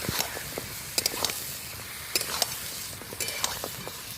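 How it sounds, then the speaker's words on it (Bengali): Goat head frying with spices in a pan, village style, under a steady close sizzle broken by repeated scraping and clinking strokes of stirring; no one speaks. "এবার মাথাটাও খুব সুন্দর করে কষিয়ে নিতে হবে।"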